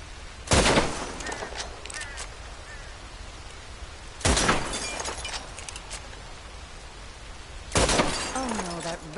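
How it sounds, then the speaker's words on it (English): Three loud gunshots spaced a few seconds apart in the Red Dead Redemption 2 video game, each sharp crack followed by a decaying echo, with soft voices faintly in the background. "I'll shoot a few more this time."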